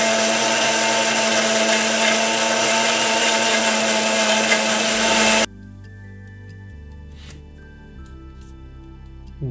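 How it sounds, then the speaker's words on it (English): A loud, dense blender whirs continuously for about five seconds while blending a mango smoothie, then cuts off abruptly, leaving quiet clinks and faint rustling. "Get a blender, put this on it and blend properly."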